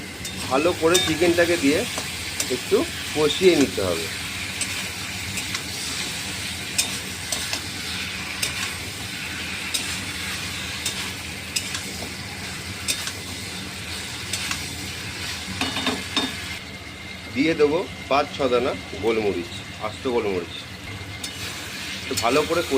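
Chicken fries in a pan with spices and garlic, a steady close sizzle and hiss running throughout, broken by bursts of scraping and stirring near the start and end, with someone talking over parts of it.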